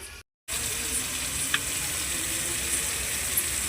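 Village-style fish curry cooking in a covered pan gives a steady, close, broadband sizzle that drops out briefly near the start, then runs on evenly with a couple of faint ticks.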